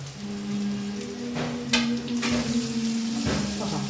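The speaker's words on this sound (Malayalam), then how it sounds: "ഈ സവാള ഒന്ന് നന്നായി വഴറ്റിയെടുക്കണേ കേട്ടോ" Sliced onions with garlic, ginger and green chilli sauté for a chicken dish. A modest sizzle sits under a steady low hum, and a few stirring bursts rise now and then.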